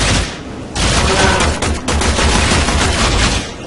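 Loud, rapid gunfire in the video game Warframe: dense bursts that fill the whole clip after a brief lull near the start.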